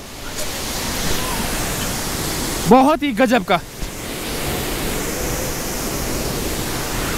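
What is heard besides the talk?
Kanchenjunga waterfall, West Sikkim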